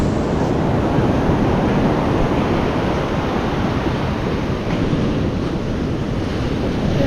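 Ocean surf washing onto a sandy shore, a loud continuous roar of breaking waves mixed with strong wind buffeting the microphone.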